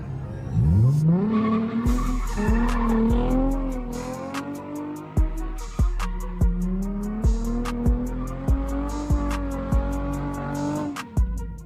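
A car spinning donuts outside roars as its engine revs up and holds high, while the tyres skid and squeal continuously. Sharp, rhythmic bursts recur every second or so, loud and close throughout.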